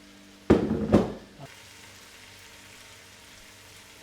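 Mushrooms dropped into bubbling butter in a pan hiss in two loud close sizzling bursts, then settle into a faint steady frying crackle.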